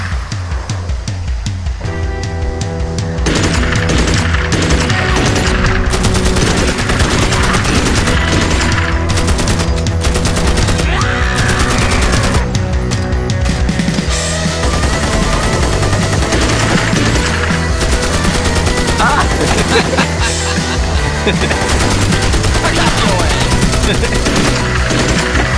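Sustained automatic gunfire in the game Magicka Vietnam, loud dense rattling bursts that start after a quiet opening and continue almost without pause to the end.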